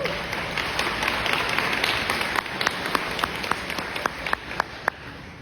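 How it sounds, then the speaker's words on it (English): An audience at a seniors' workshop applauds in a full, dense wash of clapping that thins out into a few louder, scattered claps near the end. "Let's give him a big round of applause."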